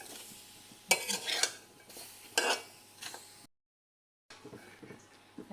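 Mango pieces going into a kadai for oil-free mango pickle give a few sharp scraping, stirring clatters against the pan, close and moderately loud, separated by quiet stretches and a brief full silence.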